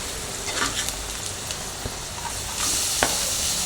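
Carrots and onions frying in a pan hiss with a steady, rain-like sizzle, broken by scraping stir strokes and small clacks of a spoon, all close and without talk.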